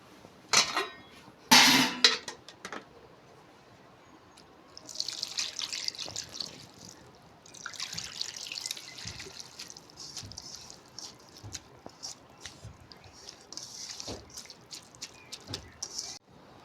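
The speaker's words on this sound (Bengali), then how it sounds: "এবার আমি অল্প জল দিয়ে দেবো।" Water is poured into a pot of kulekhara greens in a few short splashing streams, preceded by sharp clinks of the pot and utensils up close.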